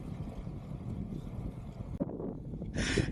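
Crosswind buffeting a cyclist's microphone on a 50 km ride, a continuous low roaring rumble with a brief dropout, then a harsher gust surge at the end.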